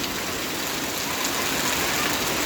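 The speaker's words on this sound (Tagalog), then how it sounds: "Sana tumigil na yung ulan." Steady, loud rain pouring down continuously over flooding that has overflowed a fishpond, a dense hiss with no breaks and no voices.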